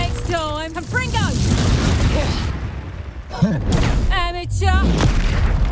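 Confringo explosion spells going off in a Hogwarts Legacy duel, with booming blasts and crackling bursts mixed under shouted character voices.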